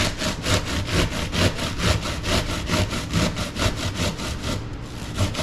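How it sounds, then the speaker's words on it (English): Cabbage is grated by hand for coleslaw in quick, even back-and-forth strokes, a loud, rasping rhythm that repeats steadily and close up without pause. "you can pick up the big pieces of cabbage that you couldn't grate, and you can grate them"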